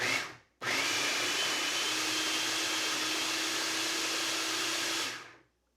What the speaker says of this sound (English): I love this food processor.